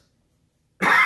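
A single sharp cough bursts out abruptly after near silence, close and loud, cut off at the end.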